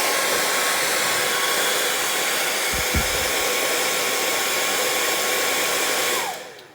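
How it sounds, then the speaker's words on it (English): A hair dryer blows hot air into the head of a version 1.0 Mattel Grogu doll, a loud, steady whooshing roar that runs continuously before quickly winding down at the end. "If you put the dryer all the way into the head and there's nowhere for the air to go, it'll burn out your hair dryer."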